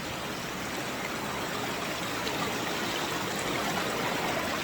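A river flows steadily, producing a constant broadband rush of moving water at even loudness throughout, with no voices.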